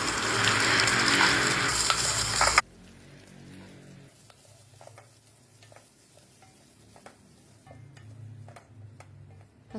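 Garlic fried and stirred in a pan sizzles loudly at first, then drops to a quieter hiss with scattered scraping and tapping of the utensil against the pan.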